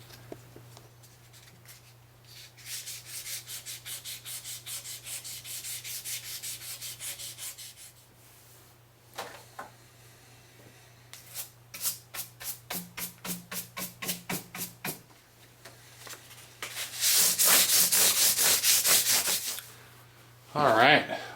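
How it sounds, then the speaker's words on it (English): Fine 3000-grit sandpaper rubs over the body of a Gibson Les Paul Studio guitar, close and fairly loud, in long bursts of back-and-forth strokes, then a run of quick short strokes, with pauses between. "that's some 3000 grit sandpaper"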